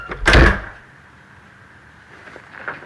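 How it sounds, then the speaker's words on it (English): An office door closes with one sharp thud near the start, followed by quieter rattling and faint movement. "Just close the door and go back to work."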